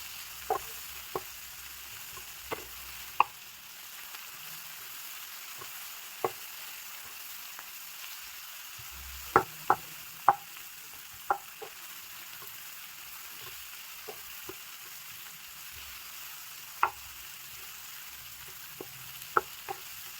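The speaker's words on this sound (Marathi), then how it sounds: "याला आपण पहिले चांगलं फ्राय करून घेऊया." Tomato, onion, whole spices, green chilli and cashews fry quietly in a pan for a restaurant-style handi chicken, a soft steady sizzle broken by scattered sharp pops and crackles.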